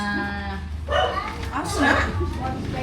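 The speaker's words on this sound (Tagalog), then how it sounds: "May aso." A dog yips and barks a couple of times close by, mixed in with people chattering over it.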